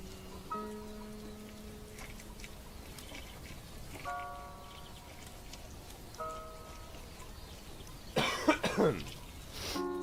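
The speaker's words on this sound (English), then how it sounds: "I'm like coughing more than I was yesterday" A few faint tonal chimes sound softly, then a burst of harsh coughing near the end, with quiet background noise throughout.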